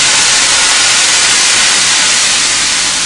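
White wine poured into a pan of sautéed mushrooms for tagliatelle with truffle, a loud, dense, continuous hiss of steam rising off the hot pan, close and unbroken.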